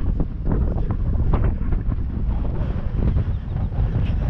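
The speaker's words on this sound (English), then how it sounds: "A little too windy and chilly to stay up here very long." Steady wind roars and buffets across the microphone on chilly, exposed Brier Ridge Meadow, a loud continuous rumbling gust with no other sounds.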